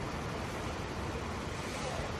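Waste from airplane toilets splashing out of a blocked pipe at an airport: a dense, steady wash of gushing liquid, close and loud, constant throughout.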